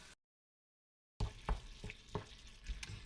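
Raw beef, 750 grams, tipped into a pot of tender carrots, giving a digital dropout followed by a few soft thumps and stirring knocks over a low sizzle, close by.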